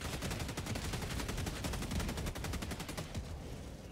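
A deployed sentry turret in Helldivers 2 fires a rapid, steady stream of automatic shots, roughly twenty evenly spaced cracks over three seconds, somewhat distant and fading as the burst ends.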